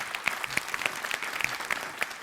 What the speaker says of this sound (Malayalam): ജസ്റ്റിന് ഒരു ഗംഭീര കയ്യടി കൂടി.